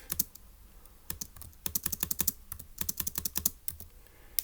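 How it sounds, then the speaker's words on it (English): Rapid bursts of keystrokes on a computer keyboard while entering a puzzle answer, close and crisp, in uneven clusters of clicks with short pauses, no voices. "let's type up our solution of 4, 2, 5"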